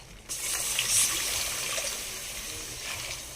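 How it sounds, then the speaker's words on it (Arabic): Milk poured into a cooking pot in one go, a steady liquid gush that starts abruptly and runs on for about three seconds. "ننزل باللبن"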